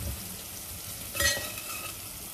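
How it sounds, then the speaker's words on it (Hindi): Crushed garlic and onion sizzle in oil inside a pressure cooker, a steady close frying hiss with a brief stirring scrape in the middle and no voices. "इसे भी भून लेते हैं 5 मिनट के लिए।"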